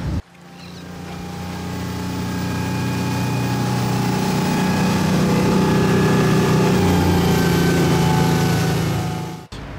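A motorboat engine drones steadily and close off D'Urville Island, New Zealand, a low throbbing hum with a higher whine, running continuously without any voices.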